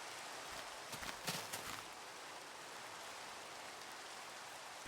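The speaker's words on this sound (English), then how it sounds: "The only thing you can really see is the rain." Steady rain falls in a dark Minecraft world, a soft even hiss throughout with a few brief louder rustling bursts near the start.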